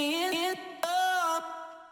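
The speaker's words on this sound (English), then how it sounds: "What I have here is a bunch of random sounds from the vocal that are really short." Short, dry vocal samples chopped up and rearranged in FL Studio, sounding as a few clipped sung syllables in sequence, each with a clear pitched tone and abrupt cuts between them.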